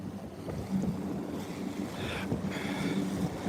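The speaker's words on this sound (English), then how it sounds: "Now, look at these waves. I'm idling right now, guys. That is all from wind." A bass boat idles in wind-driven waves, with a low steady engine rumble under wind buffeting the microphone and water slapping close by.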